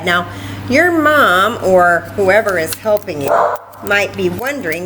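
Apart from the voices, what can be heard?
dog barking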